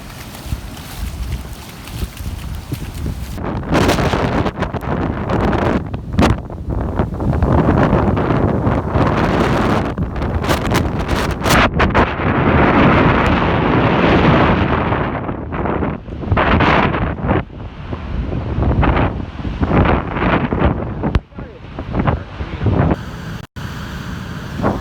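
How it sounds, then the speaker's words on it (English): Hurricane Ian's wind roars and buffets hard against the microphone on Barefoot Beach in Bonita, Florida, with heavy ocean surf churning beneath; loud, continuous gusting with brief lulls and no talking. "the ocean is coming in like crazy"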